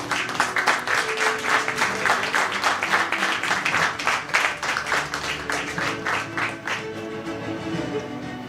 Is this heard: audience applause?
yes